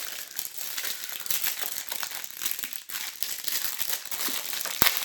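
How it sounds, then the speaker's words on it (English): Plastic packaging is ripped open with continuous crinkling and tearing for several seconds, close up, ending in one sharp snap. "They make it so hard to get into. Just rip open."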